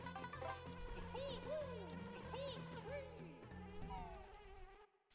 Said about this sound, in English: I'll take health if it means I get chased by bees.